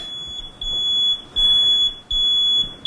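Building alarm system under test during a panel meeting session: a loud, steady high-pitched electronic alarm tone pulsing in long bursts, alone with no talk.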